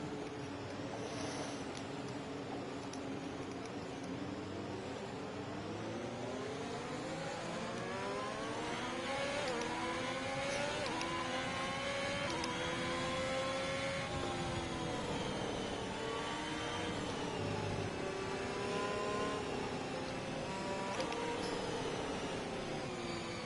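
A race car in a sim racing session weaves and brakes hard to heat its tires, its engine droning steadily with rising and falling pitch as it revs and backs off, loud and continuous without voices.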